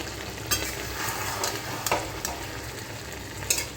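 Assam-style fish curry in a frying pan (kadai), stirred with a spoon: a steady soft sizzle with a few scraping clicks of the spoon against the pan, close and fairly quiet, with no talking.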